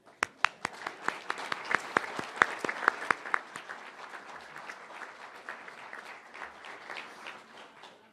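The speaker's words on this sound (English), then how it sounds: "I'd like to give you a round of applause for your service to the community." An audience at a disability employment awareness celebration breaks into sustained applause, sharp individual claps standing out at first before settling into a steady, fading wash of clapping with no talk.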